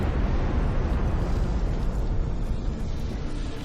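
A Dreadnought unit firing in the strategy game Ashes of the Singularity produces a dense, continuous roar of explosive blasts and rumbling bursts, loud and unbroken throughout.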